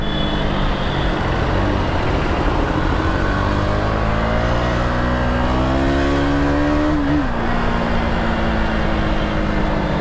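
City traffic heard from inside a moving vehicle: a loud, constant engine and road rumble with a rising and falling tone, as if passing or revving, and no clear voices.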